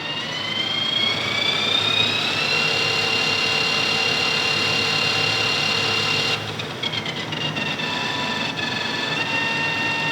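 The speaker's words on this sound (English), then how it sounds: "So we just hit run. And off she goes. Variable speed." A Colchester Master 2500 lathe runs on a VFD at variable speed, its motor whine climbing in pitch as it spins up and then holding steady, with a few faint clicks later.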